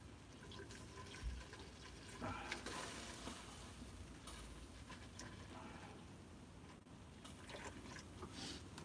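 Cold tap water runs steadily into a vessel for watering sweet pea plants, a continuous hissing splash at moderate volume that carries on without a break.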